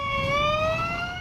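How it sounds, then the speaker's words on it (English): A Detroit ambulance siren wails in a steady, slowly rising tone, moderately loud and heard alone with no talk. "Ambulances rushing around town all day long, ferrying patients to the various hospitals at the DMC."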